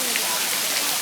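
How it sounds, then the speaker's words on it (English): Monsoon rain falls steadily in a park, a dense, even hiss of drops hitting surfaces, close and continuous with no break. "Still killing time waiting for the rain to quit."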